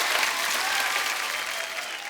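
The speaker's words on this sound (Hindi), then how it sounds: "जोरदार तालियां तो बनती हैं।" A studio audience claps in a dense, even burst of applause that holds steady throughout, with no break or lull.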